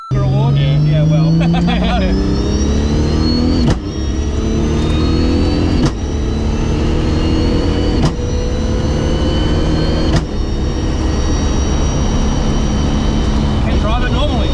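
A twin-turbo tuner car engine rises in pitch while accelerating through several gear changes, with a loud, continuous exhaust drone and brief breaks at each shift. People talk over the engine.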